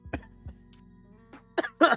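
Several short coughs and throat clears come from a person close by, scattered with pauses, the last two louder and harsher.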